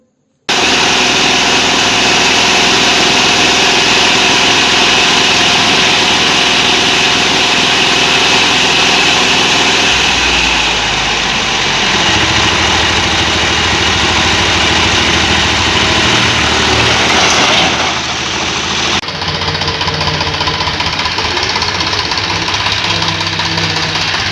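A tractor engine runs loud and close in rural Giridih, a steady droning, knocking idle that holds for the whole stretch. Its tone shifts partway through, then settles again near the end.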